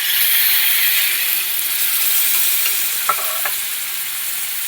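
Water used to rinse spices hits a hot pan of vegetarian curry, and a loud, dense hiss fills the whole stretch, with a faint metallic clink near the end.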